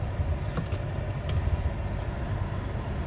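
A 2023 Chevy Colorado Trail Boss engine runs as a steady, low rumble heard from inside the truck, continuous and even throughout with no voices.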